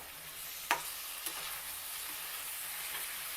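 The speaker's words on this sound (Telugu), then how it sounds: "ఇలా కలిపిన తర్వాత ఇంకా మధ్య మధ్యలో కలుపుతూ ఉండాలి" Onion-chili curry with tamarind and jaggery being stirred in a pan gives a soft, steady sizzle with two brief spoon clicks against the metal, faint and without any voices.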